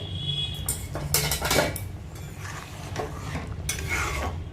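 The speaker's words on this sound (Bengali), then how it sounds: "আর দিয়ে দেবে এর মধ্যে একটুখানি ঘি এবার ভালো করে এটা মিশিয়ে নেবে" A spoon stirs ghee into moong dal cooked with winter vegetables in a pot, scraping and clinking against the metal in uneven strokes over a soft, steady background hiss, close and moderately loud.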